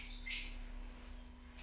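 Several short, high chirps from a songbird kept for training, faint and a little distant over a steady electrical hum, with no voices.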